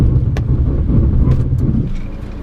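A 2015 Nissan Juke Nismo RS with a manual gearbox doing a panic stop: a loud, steady low road and engine rumble that eases as the car slows, with no voices.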